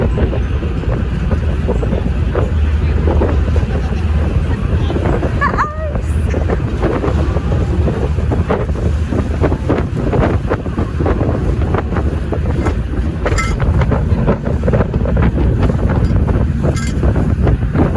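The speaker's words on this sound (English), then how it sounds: "Here we are back on the boat" A ferry boat moving on the water on the way to Ward's Island, with strong wind buffeting on deck over a steady engine and wash rumble, loud and continuous, with faint voices now and then.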